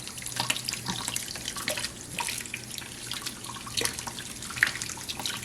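Tap water runs steadily into a sink while bubble scoops are crumbled under the stream, a continuous splashing rush with irregular gurgles and drips, close and fairly loud, no voices.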